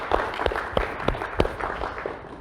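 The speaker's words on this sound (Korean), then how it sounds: "우리 함께 영광의 박수를 하는 길에 올려드리도록 하겠습니다" A church congregation at a Korean Sunday worship service in Cebu claps in a loose, fairly even rhythm, each clap crisp and distinct against a quiet room.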